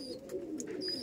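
A male Kalanka pigeon coos softly in a low, steady murmur over about a second, close by and alone, with faint higher chirps from other birds in the background.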